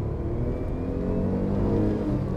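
A Tata Tiago petrol engine revs as the accelerator is pressed, a steady mid-pitched hum swelling slightly in a short, close burst with no talking.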